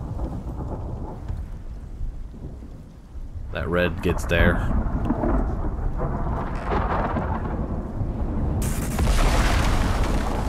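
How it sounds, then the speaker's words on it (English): Thunderstorm in the survival game Icarus New Frontiers, with deep rolling thunder, a sharp booming crack midway and heavy rain building toward the end, loud and close, while someone talks over it. "Here comes the next level of the storm."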